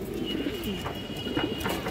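A female Gorra pigeon of the Sarasai line coos close by: soft, low, rolling coos repeat steadily for about two seconds with no talking.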